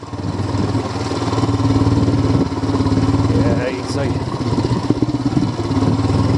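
A Royal Enfield Himalayan engine-braking in first gear down a steep moorland track, a steady mid-pitched engine drone running throughout with the rider talking over it.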